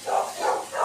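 Three quick dog barks in a row, moderately loud and fairly close, with no talking.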